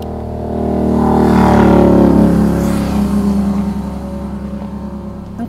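A motorcycle engine revs nearby on a roadside in the United States, swelling loudly to a peak and then settling into a lower, fading drone.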